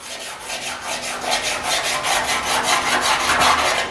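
Sanding block scraping back and forth over guide coat on a 1950 Chevy truck body panel, a steady rhythmic rasping of roughly two strokes per second, close and continuous with no talking.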